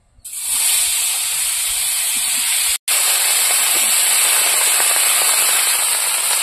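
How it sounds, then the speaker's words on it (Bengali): Brinjal slices dropping into hot oil left from frying fish, setting off a loud, sudden sizzle that roars on steadily, broken by one brief gap before the hissing resumes at full strength. "এবার মাছ ভাজা তেলের মধ্যে বেগুনগুলো ভেজে নেব।"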